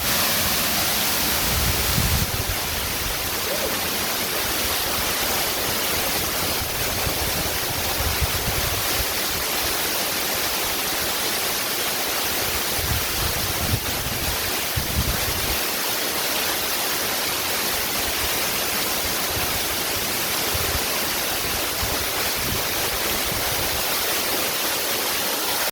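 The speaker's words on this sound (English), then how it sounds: "we made it to the waterfall" A hidden waterfall near Cape Town pours in a steady, loud roar of falling water that fills the whole stretch without pause.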